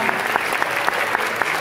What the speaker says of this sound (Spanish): un aplauso enorme a ella